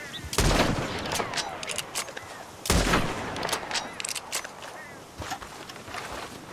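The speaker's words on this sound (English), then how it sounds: "He's gonna get it with a rifle." Two loud rifle shots fired at a coyote in Red Dead Redemption 2 ring out about two seconds apart, each with a rolling outdoor echo, followed by softer rustling and faint game ambience.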